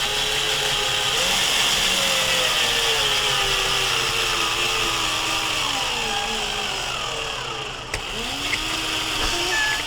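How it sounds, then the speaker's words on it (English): A battery drill bores into a Trumpeter 1/700 scale model of the USS Wisconsin, giving a steady, close, high-pitched whir that runs unbroken for about ten seconds, with a faint click near the end. "I don't know how much more juice this drill has in it."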